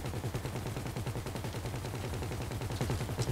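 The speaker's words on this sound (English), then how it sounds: "there's the button that shoots gun" An aircraft-mounted gun firing in a GTA heist mission, a steady, fast rattling stream of shots that continues for several seconds at moderate loudness, with no voices over it.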